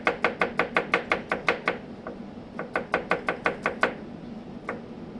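An onion being finely chopped on a cutting board: rapid, even knife strikes in two quick bursts of about a dozen hits each, then a few lone taps, close and crisp with no talk.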